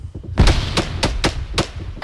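Gunfire in the Arma 3 military game, where a grenade launcher shot is fired: several sharp reports in an irregular string, the first one heavier with a deep thump, then quick cracks spaced about a quarter second apart.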